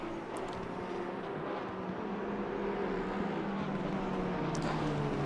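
Racing cars in Assetto Corsa Competizione circling Oulton Park, a steady layered engine drone with several cars running together, held at an even level throughout with no voices.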